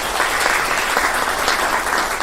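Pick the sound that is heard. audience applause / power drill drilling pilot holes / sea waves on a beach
audience applause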